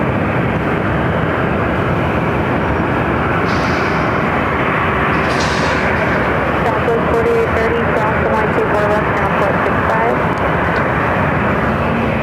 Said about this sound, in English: The aircraft taken off, and Delta Airlines heading to Atlanta